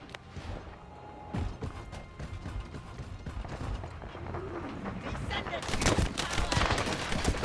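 Video game gunfire in a looter-shooter, with bursts of shots and mechanical clatter building to a denser volley near the end, mixed with game sounds and some talk.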